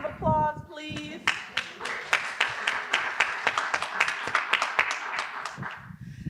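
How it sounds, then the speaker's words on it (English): Audience applause at a university Black Media Symposium, scattered sharp claps building into a steady round after a brief voice at the start, fairly close and moderately loud. "give yourselves a round of applause, please."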